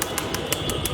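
Pigeons on a rooftop garden give close, evenly spaced pulses of bird sound that repeat about five times in a second over a dense background hum, with no voices.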